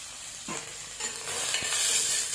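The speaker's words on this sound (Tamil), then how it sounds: "இப்போ நான் வெங்காயமும் கருவேப்பிலையும் இதில் சேர்த்துக்கிறேன்." Onions and curry leaves hit a hot pan and are sautéed, a sharp crackling sizzle breaking out and building louder with stirring scrapes, close by and without voices.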